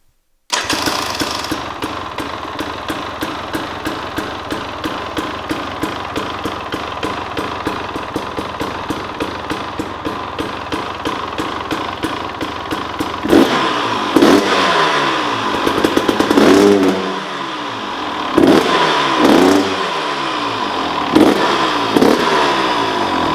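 A 2023 KTM 300 XC TBI two-stroke dirt bike starts up close by, idling with a rapid crackling pulse, then blips its throttle in several sharp revs toward the end.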